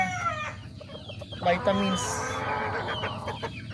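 Roundhead bulik gamecocks, Allen Roundhead line, clucking and calling in a farm yard, a rooster's partial crow rising briefly among steady nearby fowl chatter, with someone talking over the birds.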